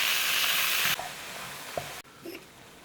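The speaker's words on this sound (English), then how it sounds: "Give it a little stir." Ground beef and bacon hiss loudly in a hot pan, the sizzle dropping sharply in stages as a spoon stirs and scrapes the meat close by, no voices.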